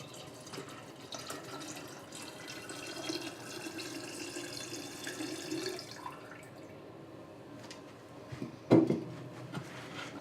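Tap water runs steadily as about a quart is poured into a rum punch mixture made with Appleton Estate rum, a continuous watery rush that eases off partway through, ending with a brief clunk.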